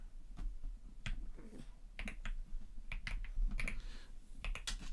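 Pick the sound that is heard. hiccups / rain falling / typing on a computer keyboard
typing on a computer keyboard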